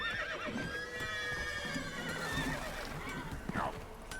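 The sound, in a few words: horses neighing in a video game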